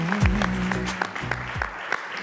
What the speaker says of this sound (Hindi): बहुत सी तालियों के साथ